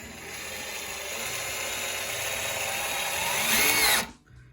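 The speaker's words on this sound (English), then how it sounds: "I want a good lengthy decking screw just to see how far in we can go with no pilot hole" Ryobi One+ cordless drill driving a long decking screw straight into wood with no pilot hole, a steady whirring drive rising in strain for about four seconds, then cutting off abruptly.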